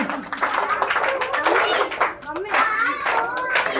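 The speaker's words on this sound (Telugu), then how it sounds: "క్లాప్స్ చేద్దాం ఒకసారి" Children clap their hands together in a quick, uneven burst of close, sharp claps mixed with their excited voices and chatter.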